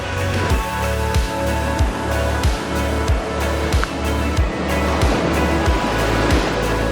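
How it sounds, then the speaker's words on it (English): Ocean waves at a beach on Nusa Penida, Bali, with strong currents, break and wash ashore in a loud, rolling rhythm, about one surge per second, each crash rising and falling continuously with no voices over it. "So I'm down at the beach"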